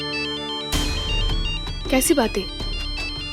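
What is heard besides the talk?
mobile phone ringing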